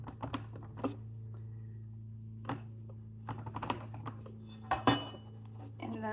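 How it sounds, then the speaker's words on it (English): A bench scraper cutting sourdough pizza dough into four pieces gives sharp scraping knocks and taps against the work surface, scattered and close over a steady low hum, with no talking. "That's my bench scraper."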